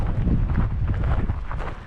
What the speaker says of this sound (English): It's windy, so just a ball of fun here.